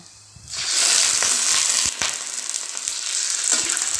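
Chicken liver, garlic, onion and chili hit a hot pan, bursting into a loud, close sizzle after a quiet start, with sharp crackles and stirring clicks throughout, no talking.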